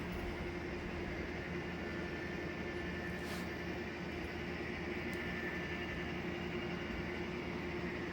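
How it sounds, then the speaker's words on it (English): A steady, continuous rumbling hum of a model train running on a layout, with a constant mechanical drone and no pauses throughout. "I'm just going to let the train run for a while."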